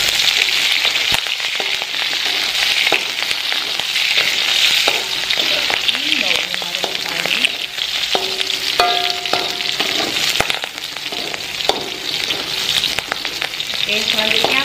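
Green onions frying in a pot while hot pot is made at home, a loud, steady sizzle with crackling spatters and the scrape of stirring running throughout, with no talk over it.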